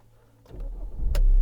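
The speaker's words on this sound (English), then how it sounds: "Car starts, keyless go." 2012 BMW 520d diesel starting via keyless go: quiet cabin, then a starter crank and the engine catching into a loud low idle, close up.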